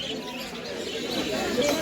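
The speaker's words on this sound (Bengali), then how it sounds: "দেখো ফিন জাবা জাবা পাখি সমস্ত কিছু এই জায়গায় আছে" Birds for sale at a cheap bird market in Naihati, including finches and pigeons, chirping and cooing amid a busy crowd murmur, with people talking nearby.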